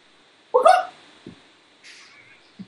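A person's voice imitates a chicken call with a single loud, close squawk, followed by a few faint clucks and small sounds.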